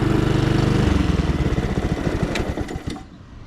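A Honda HRX 217 lawn mower engine runs close and loud with a steady rapid chugging that eases down toward the end, as if throttling back or shutting off.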